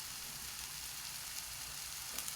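Corned beef fries in a pan with a steady, faint hiss and crackle and no voices.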